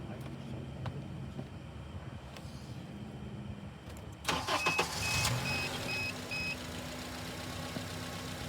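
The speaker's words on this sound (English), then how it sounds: "we got to start the car" A car engine cranks and catches, then settles into a steady idle nearby. Low background noise comes before it, and a voice speaks briefly.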